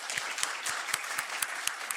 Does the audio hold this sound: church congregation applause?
yes